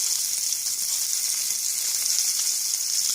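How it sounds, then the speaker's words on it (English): Pork chop fat frying in a pan, a steady bright sizzle that runs without a break, close and even in loudness. "you'll start to see the fat melting into the pan"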